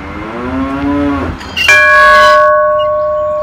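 A cow in Warren, New Hampshire gives one close, loud moo lasting about a second, followed by the clear ringing tone of a bell that slowly fades.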